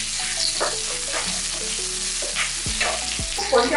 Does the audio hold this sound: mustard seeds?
yes